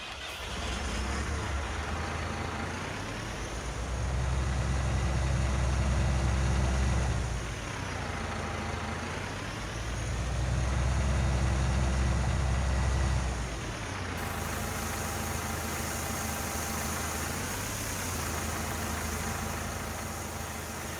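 Tractor engine in Farming Simulator 19 runs steadily for about twenty seconds, a deep low rumble that swells twice as it revs up and eases back, with no talking over it.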